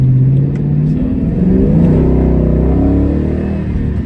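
A Ford Mustang Bullitt fitted with performance modifications revs and accelerates hard, its engine note climbing in pitch and staying loud and close throughout, with a steady rumbling roar and no talking.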